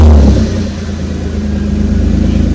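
A 2007-2009 Kia Sorento engine fired by remote start: a loud cranking burst that settles into a steady, close idle with a low rhythmic hum.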